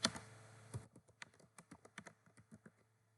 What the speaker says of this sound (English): I'll type clothing brand